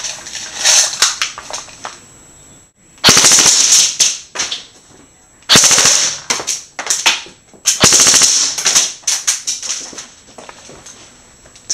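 A G&G Combat Machine M4 airsoft electric gun with its stock motor, run on an 8.4 volt battery, fires several loud full-auto bursts of rapid mechanical cracks, each lasting a second or two, separated by short pauses.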